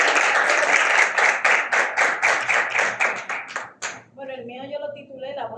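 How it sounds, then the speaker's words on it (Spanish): Audience applause at a Dominican literature event, a steady burst of claps lasting about four seconds before a speaking voice takes over. "Vamos a dar un aplauso."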